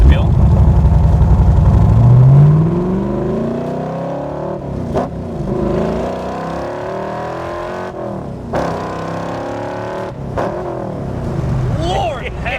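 A 1965 Backdraft Cobra RT4 roadster engine roars loud and close, rising as it accelerates, then holds a throaty running drone with a few shifts in pitch while people talk over it.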